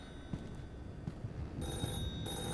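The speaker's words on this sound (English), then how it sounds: "The phone's ringing" A telephone ringing inside a horror video game, a thin electronic ring sitting over a low rumbling ambience, moderately loud and without any talk.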